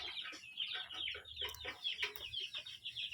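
Desi chickens cluck in a continuous, busy chorus as they peck at moringa leaves, with repeated short clucks close by.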